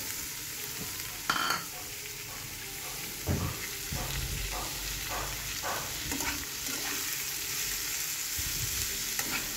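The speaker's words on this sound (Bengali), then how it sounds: "তো ডালের সঙ্গে পেঁপেটা ভালো করে ভেজে নিচ্ছি।" Mung dal and raw papaya fry in a pan, with a steady sizzle under a series of rhythmic scraping stirs, several in quick succession, and a few louder knocks of a utensil.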